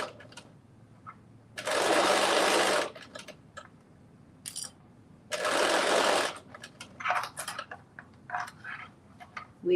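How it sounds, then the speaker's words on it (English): A sewing machine stitches a garment sleeve on in two rapid buzzing runs of about a second each, with scattered soft clicks and fabric handling between. "we are stitching our sleeve on"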